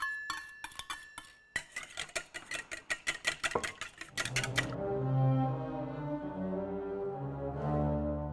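Rapid metallic clicking of a whisk beating soup ingredients against a bowl, a steady fast rhythm that stops and gives way to a sustained hum.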